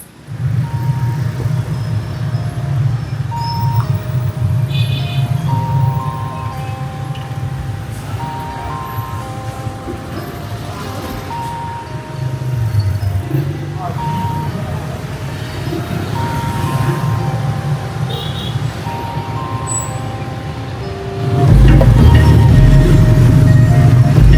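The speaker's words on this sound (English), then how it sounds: "It's just so busy, the Vietnamese roads here in Hanoi." Busy street traffic in Hanoi, Vietnam: a steady, loud roar of engines with scattered horn tones. A heavier vehicle grows louder near the end.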